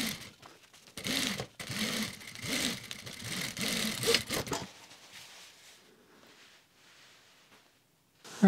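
Sewing machine top stitching the outseam of lightweight summer shorts, running in a loud, close, continuous whir for about four seconds, then stopping, with only faint handling noise after.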